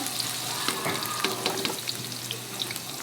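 Sliced onions sizzle in hot oil for a fish bhuna, giving a steady crackling fry with a few clinks and scrapes from stirring.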